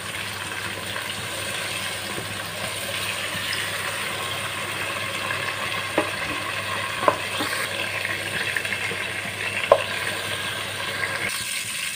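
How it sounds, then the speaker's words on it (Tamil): Mushrooms frying over high heat in a pan for spicy mushroom biryani, a steady close sizzle with occasional stirring scrapes and a few sharp clicks. "நாம கொஞ்சம் கொஞ்சமா ஃப்ரை பண்ணி எடுத்துக்கலாம்"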